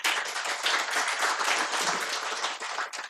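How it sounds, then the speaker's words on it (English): A conference audience at the Maisha Conference claps for a co-moderator, a fairly soft but continuous patter of many hands lasting a few seconds before tapering off, with no talk over it. "can you have a clap for my co-moderator here?"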